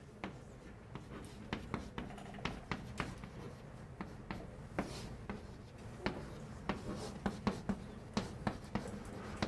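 Chalk or a marker taps and scratches on a board during a university calculus lecture, in quick irregular strokes that sound close and fairly quiet in a roomy hall.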